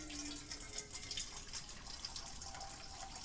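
Tap water runs in a steady, fairly quiet stream with a soft splashing hiss, as if filling a kettle or cup for late-night coffee, with no talking.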